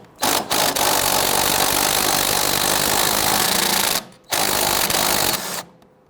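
A power tool whirs steadily to loosen a sway bar end link nut on a 2007-2014 Cadillac Escalade front suspension, loud continuous bursts broken by a short pause and stopping near the end.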